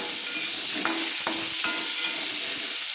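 Potatoes frying in oil in a pan with salt and colouring, a constant bright sizzle with several sharp spatula scrapes as they are stirred, close and alone.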